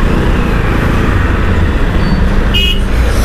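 Loud, constant rumble of busy road traffic with engines idling and moving nearby, and a brief car horn toot near the end.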